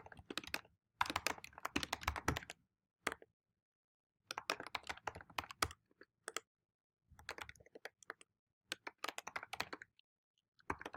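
Bursts of fast typing on a computer keyboard while a real estate form is filled in, clattering keys in quick runs separated by short pauses, close and fairly quiet with no talk.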